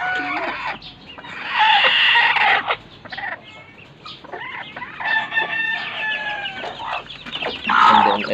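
Several chickens cluck and squawk nearby in overlapping bursts, with a rooster-like call standing out near the end.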